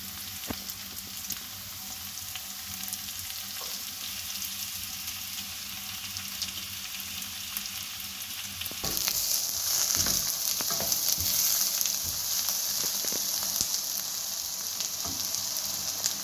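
Chopped onions and chilies frying in a pan for a bhindi dish, a steady close sizzle lasting throughout that grows louder and brighter partway through, with occasional stirring scrapes and no talk.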